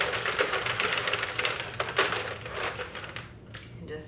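A Sentro knitting machine is cranked through the final row of a keyhole sweater, giving a rapid, steady run of plastic clicks and rattles close by that slows and thins toward the end.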